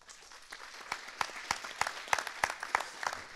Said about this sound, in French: On peut t'applaudir.